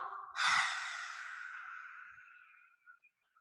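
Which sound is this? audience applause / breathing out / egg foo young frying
breathing out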